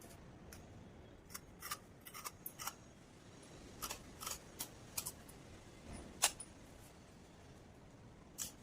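Sharp snips of scissors cutting stacked fabric pieces for tailoring, scattered in quick pairs and single crisp cuts, close and fairly quiet over a soft room hush with no talking.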